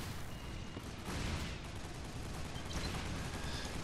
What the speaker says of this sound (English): There's one guy in there just spamming rocket launchers.